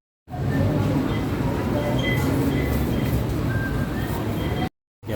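An MRT train gives a loud, steady rolling rumble with faint squeals, continuous for about four seconds before cutting off abruptly.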